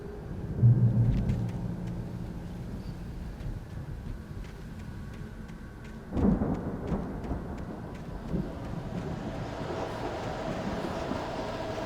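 Thunderstorm in the video game Alan Wake Remastered, with a steady wash of rain and low rumbling throughout and a sharp thunder crack surging up around the middle before rolling off into continued storm noise.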